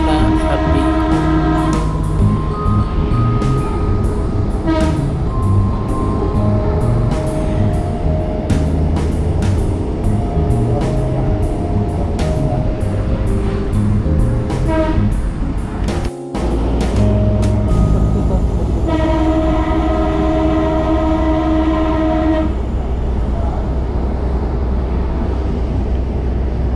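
Minangkabau Express passenger train rolling toward Tabing station, with a steady low rumble of wheels and carriage, repeated rhythmic clacks over rail joints, and a sustained horn-like tone in the middle section.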